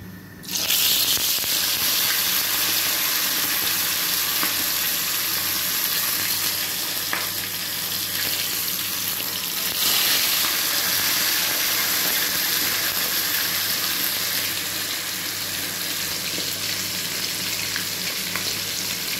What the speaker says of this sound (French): j'ai fini de faire frire le poisson